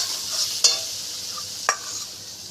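Shrimp dish ingredients frying with meat masala in a pan, a steady bright sizzle with two quick scraping stirs of the spoon, close by and without speech.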